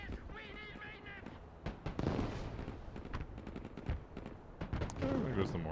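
A mortar firing in the modern military strategy game Broken Arrow, with sharp reports and dull booms scattered through a busy battle mix of gunfire and radio-style voice chatter, moderately loud.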